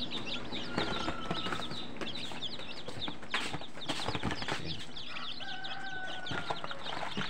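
Newly hatched chicks from a DIY refrigerator incubator being moved into a brooder: constant high, close peeping with a few scattered clucks, light rustling and soft handling noises.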